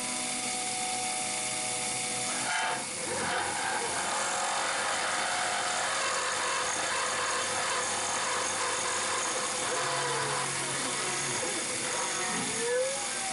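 Stainless steel milled with a 3/16 inch diameter short flute cutter: a steady, loud machine whine and grinding drone runs the whole time, with a faint clunk near the start and shifting tones later.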